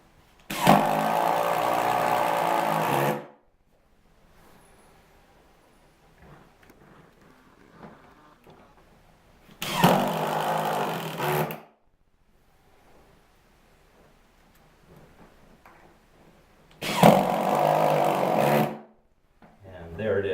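Galvanized drywall screws driven with a drill while anchoring a toilet flange in a bathroom remodel: three sustained whirring bursts of a few seconds each, close and loud, separated by quiet gaps.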